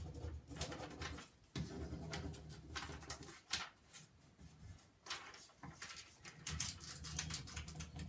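Garden birds, likely pigeons or doves, coo and call in the background outdoors, faint and continuous under a busy, noisy ambience.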